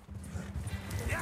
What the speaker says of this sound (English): Is this as fast as the horse goes? Is this the maximum speed?